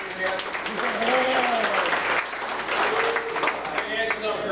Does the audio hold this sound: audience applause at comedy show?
yes